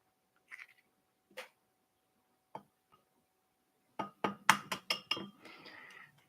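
Three eggs cracked into a heating pan, a few sparse taps on the rim followed by a quick cluster of sharp clinks and knocks, then a faint sizzle as the eggs land, all close up with no talking.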